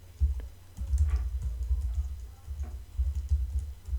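Fingers type a domain name on a computer keyboard, producing light, irregular clicks and taps over a low background hum, with no one speaking.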